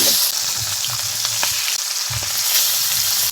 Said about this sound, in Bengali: তৈলটা গরম হয়ে গেছে, আর মাছটা দিয়ে দেবো